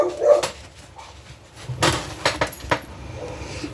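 Several household dogs bark and yip in short, uneven bursts, some near and some farther off, with faint jangling and soft background noise between them.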